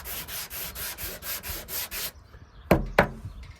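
Steady rhythmic sanding strokes on a dented Mk3 Toyota Supra body panel, about eight back-and-forth passes close by, then a pause and two sharp knocks.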